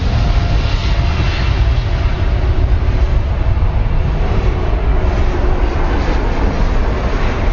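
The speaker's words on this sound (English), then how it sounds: "Get onto that 380 that's just taxiing, Johnny" An Airbus A380 jet taxis at Heathrow Airport, its engines producing a loud, steady roaring rumble with a broad hiss that stays constant and close throughout.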